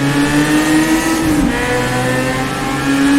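A 1960s Formula race car engine in rFactor2 revs up hard under throttle, a loud, buzzing harmonic whine that climbs in pitch, dips briefly at a gear change, then rises again.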